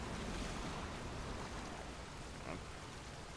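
Steady rushing, surf-like water noise in The Last of Us after the player falls in, a dense, even wash that stays constant and moderately loud throughout.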